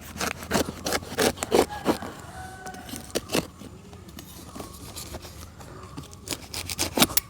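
A ripe jackfruit is cut with a large knife, giving a series of crisp scraping, crunching strokes with short pauses between them, close and fairly quiet, with no voices.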